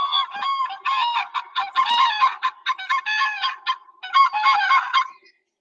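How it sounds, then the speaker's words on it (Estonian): Common crane calls played back from an audio bird book, a series of loud, clear trumpeting honks in rapid bursts, heard alone. "vaatame sookure laulu ka"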